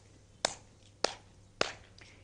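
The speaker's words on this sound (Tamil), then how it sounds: "இந்த மாதிரி 2 கையும் சமமாக சேர்த்து நம்ம பண்ண போகிற கைத்தட்டுதல்" Palms struck flat together in hand claps: three sharp, evenly spaced claps, close and fairly loud, then a softer fourth, in a quiet room with no talk.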